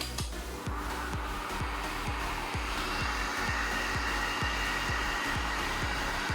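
Heat blower or heater aimed at sound dampening panels, a steady, close whooshing airflow with a hair-dryer-like hum and regular faint rhythmic ticks running throughout.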